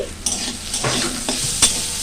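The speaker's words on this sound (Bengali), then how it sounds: "এই যে উচ্ছে ভাজছি" Chopped bitter gourd frying with onion in a home kitchen pan, a low sizzle broken by a few sharp stirring clacks spaced through the short stretch.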